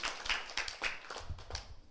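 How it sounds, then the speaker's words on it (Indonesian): A small group at a kindergarten children's show claps for a young child performer, a brief scattered burst of quiet, uneven claps that lasts under two seconds. "Tepuk tangan untuk Alisna"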